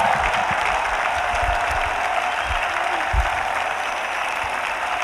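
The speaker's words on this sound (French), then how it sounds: "Let us clap together." A church congregation at an intercession and prayer gathering claps together in steady, sustained applause, a dense wash of many hands with faint low thumps underneath, continuing throughout without speech.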